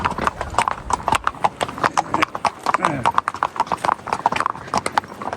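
Horse hooves clip-clop in a steady, brisk rhythm while someone rides near the Pyramids of Giza, the hoof beats close and crisp, with a voice in the background.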